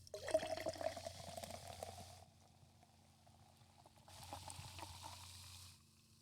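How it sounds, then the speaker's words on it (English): Seltzer poured into a glass gives a fizzing, bubbling hiss that swells, fades to a quiet simmer, then rises again briefly; quiet and close, with no talk over it. "I'm going to pour mine into a glass."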